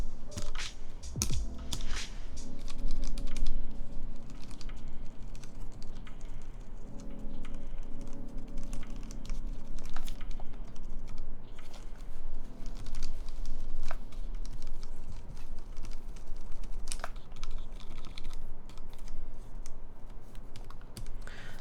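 Steady stream of typing on a freshly built Keycult No 1 Rev 2 mechanical keyboard fitted with ceramic keycaps, close and clear with dense rapid clicks over a low background hum.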